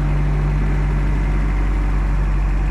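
A pickup truck engine with a new exhaust idles steadily with a deep, constant low rumble and hum, close by and unbroken, with no voices.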